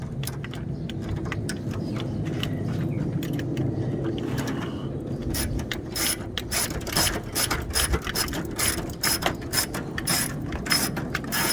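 A ratchet tightens bolts on a Lexus ES330 starter, its rapid clicking bursts growing louder and denser in the second half, close up under a steady low hum.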